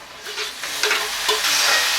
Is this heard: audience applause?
no